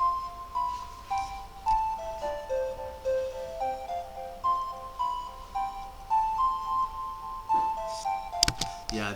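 An old FL Studio synthesizer preset called Purity plays a simple melodic line of bright, bell-like plucked notes in a steady rhythm, close and clear, with no talking.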